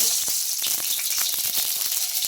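Mustard seeds crackle and spit in hot oil during tempering for a tomato rasam, a dense run of sharp pops over a steady bright sizzle, close and fairly loud with no talk.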